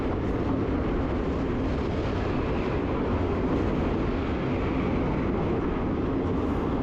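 A train crossing the Shoranur bridge over the Bharathapuzha river, a steady loud rumbling roar throughout, heard from on board.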